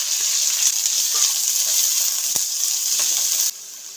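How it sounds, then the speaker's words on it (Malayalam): A large sliced onion, green chillies, cardamom, cinnamon and cloves sauté in a pan for chicken stew, giving a loud, steady sizzle with brief stirring scrapes before the hiss drops away near the end. "സവാള ചെറുതായിട്ടൊന്ന് വഴറ്റിയെടുക്കാം"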